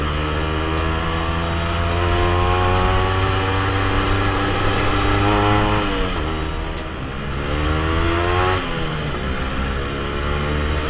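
An old 1991 Yamaha RG Sprinter motorcycle runs close by, a continuous buzzing two-stroke engine note that rises and dips with brief revs and shifts, loud and steady without talk.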